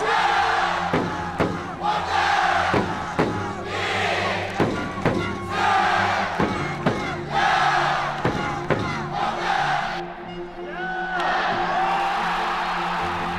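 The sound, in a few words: baseball fans cheering in a stadium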